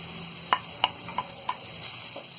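Carrots tossed into softened onions in a hot pan over a high gas flame, a soft sizzle under a few sharp clacks of a spatula against the pan.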